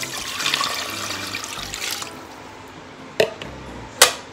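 Water poured into a pressure cooker holding pork for sinigang, a bright splashing stream for about two seconds, then quieter handling with two sharp knocks or clinks of the pot.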